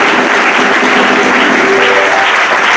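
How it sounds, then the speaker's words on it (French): A church congregation at a baptism ceremony applauds the Lord, giving dense, sustained clapping from many hands that stays loud and even throughout, with no talk over it. "Nous voulons acclamer le Seigneur pour toutes les personnes"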